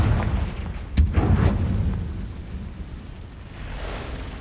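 Confringo spell explosion in Hogwarts Legacy: one sharp boom with a rolling low rumble that fades over a few seconds, alone without talk.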